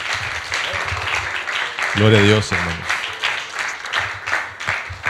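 A church congregation applauds steadily during a Spanish-language service, the clapping running under someone speaking into a microphone throughout.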